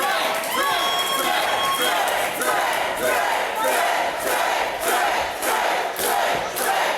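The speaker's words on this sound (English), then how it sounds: "Trey Lamar feeling the love from the hometown crowd here in the Hall of Fame city." Hometown crowd at a professional wrestling show roars and chants in rhythmic pulsing waves, loud and close, with shouting voices and some applause mixed in.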